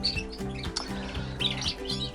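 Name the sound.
canaries chirping in a bird room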